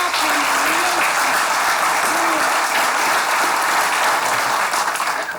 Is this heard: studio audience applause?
yes